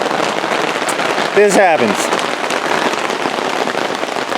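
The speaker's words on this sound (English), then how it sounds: "Rain." Steady rain patters on the ground in an outdoor spot used for chainsaw lumber milling, a constant close hiss. Someone speaks briefly over it.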